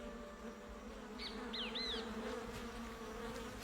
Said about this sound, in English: Female sand wasps excavate 5-inch deep tunnels where they lay a single egg.